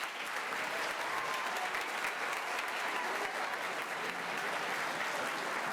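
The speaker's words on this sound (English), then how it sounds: "How about another round of applause for the FMS 8th grade band?" A school concert audience applauds an 8th grade band, dense sustained clapping that fills the hall steadily and evenly throughout, with no talk over it.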